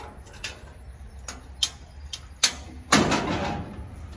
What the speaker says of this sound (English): Barn doors swing open